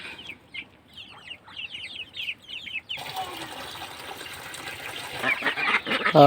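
Farmed tiger chickens cluck in a quick series of close calls, then a louder rushing, splashing noise takes over, with chicken sounds still faintly mixed in.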